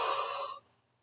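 A single breathy yawn, loud and close, fades out after about half a second into near silence.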